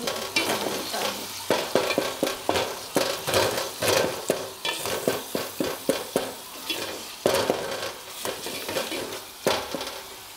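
Masala frying in a pan for masoor dal with karela, stirred with a wooden spoon: steady sizzle broken by a quick run of scraping, knocking strokes against the pan, close and fairly loud, with no voices.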